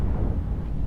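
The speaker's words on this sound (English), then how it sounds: "And the rattlesnake has been blown up. That was a beautiful explosion." A battleship explodes in EVE Echoes, a brief, deep, heavy rumbling boom that fills the whole moment with low, dense roar.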